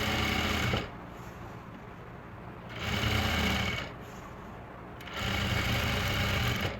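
A sewing machine stitches printed salwar cloth over a foam layer in three loud bursts of rapid whirring, with short quieter pauses between runs.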